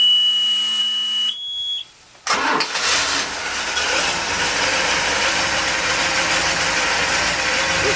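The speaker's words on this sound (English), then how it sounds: "So let's start them up so you can hear how they run." The starboard inboard engine of a 1998 Doral 300 SC boat starts up: a warning buzzer tone, a short cranking whir, then the engine catches and settles into a loud, steady idle rumble close by.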